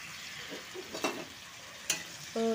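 Mushrooms stirred and fried in a pan, a soft steady sizzle with a few scraping stirs and clinks of the utensil against the pan, close and without talk.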